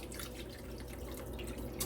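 Bone broth pours into a boiling pot while braising beef short ribs, giving a steady liquid trickle and bubbling that runs unbroken and fairly quiet, with no talking.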